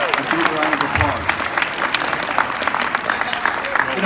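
Audience applause rises at an AlienCon 2019 panel on Ancient Aliens, a steady wash of many hands clapping with crowd murmur and voices mixed in.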